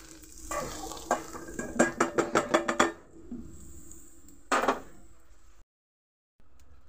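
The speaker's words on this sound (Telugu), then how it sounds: "ఇప్పుడు ఈ ఫ్రై అనేది మనం ఒక బౌల్లోకి తీసేసుకుందాం" Fried pieces are scooped from a pan into a bowl with a spoon, giving a quick run of metallic scraping clinks over a soft background sizzle, then one more scrape before a short silence.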